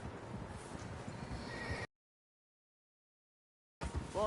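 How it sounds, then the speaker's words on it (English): Horses in Red Dead Redemption II snort and whinny amid hoof clatter, loud and busy, broken by a sudden stretch of dead silence before the sound cuts back in. "Horses, Di quite a few pa. of them."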